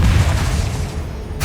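Confringo spell explosions in Hogwarts Legacy make a loud, deep boom that rolls into a short rumbling decay, with a fresh bright burst starting at the very end.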